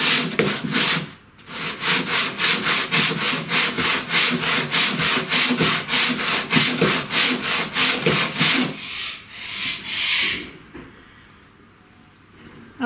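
Wooden part for a homemade CNC router rubbed flat by hand on 80-grit abrasive, with about twenty rhythmic, loud scratchy strokes that stop, followed by quieter handling sounds.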